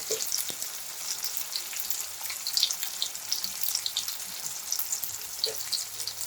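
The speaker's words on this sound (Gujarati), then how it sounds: "ટામેટા અને ડુંગળીને ચલાવતા રહીશું" Chopped tomatoes and onions fry with salt in a pan, giving a steady close sizzle with occasional scraping from stirring and no voices over it.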